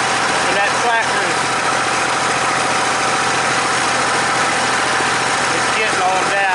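A tractor engine runs steadily at close range while fertilizing corn, a constant vibrating drone with brief higher engine whines near the start and end.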